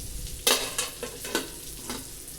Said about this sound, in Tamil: நல்லா மீன் கொதித்து நல்லா வெந்து வர வரைக்கும் ஒரு 10 நிமிஷம் மீன் வேக விடுவோம்.